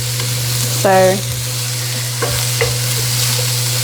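Onion fries in a pan for Korean sweet potato noodles, giving a steady, loud sizzle close by with a few brief stirring scrapes and a short squeaky tone over it.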